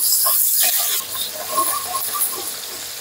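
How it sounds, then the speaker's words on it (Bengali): Crushed garlic frying in oil with five-spice seeds for an okra masala fry, a close, steady sizzle and hiss with small crackles and stirring clicks that fade slightly after the first second. "এবার আমি সেই রসুন থেতো সেটা দিয়ে"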